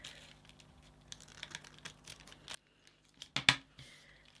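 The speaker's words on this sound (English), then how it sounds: "I can just trim this off with my scissors." Crisp snipping and cutting sounds of scissors trimming tissue paper with light paper rustle, close up, followed by a brief pause and a couple of sharper snips near the end.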